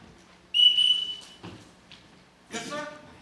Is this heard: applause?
no